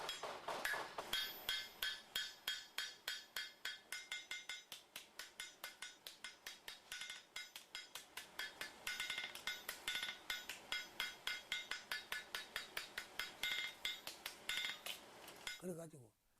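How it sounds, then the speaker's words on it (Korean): A blacksmith hammers iron at the forge in quick, steady strikes that fall into a musical rhythm, ringing metallic blows repeating densely over the whole stretch at moderate distance with no talk. "그의 망치 소리는 리듬을 타고 마치 음악처럼 들린다"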